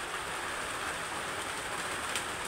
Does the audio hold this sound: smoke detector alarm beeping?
no